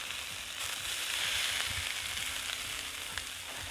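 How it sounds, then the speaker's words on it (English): Sausages sizzling on a hot plate set over a campfire, a loud steady crackling fry with small pops throughout, close and continuous. "Oh, listen to that sizzle. Nothing better than cooking on a fire."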